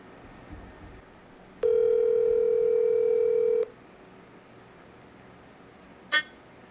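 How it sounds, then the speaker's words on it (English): A single steady ringback tone sounds for about two seconds over quiet background hiss, followed later by a brief faint chirp. "Let me see if she will pick up her phone."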